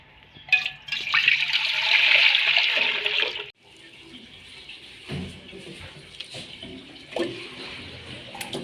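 Water runs from a tap into a pot for boiling potatoes in a home kitchen, a steady loud gush for a few seconds, then softer trickling and splashing with small clanks.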